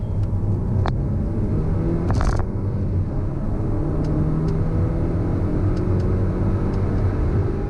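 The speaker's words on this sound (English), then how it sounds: "how's it going to do on the 30 to 70 sprint?" A 300 hp Volvo V60 B6 all-wheel-drive estate car accelerates hard from 30 to 70 mph, giving a loud, steady engine rumble and whir with road noise that holds throughout, heard from inside the cabin with no talking.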